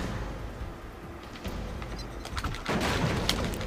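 Gunfire in the PS2 action game Rise to Honour: a dense, noisy run of shots and bursts that grows louder and busier in the second half, with no talk over it.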